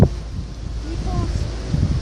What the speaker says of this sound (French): Alors le vent souffle par forte saccade.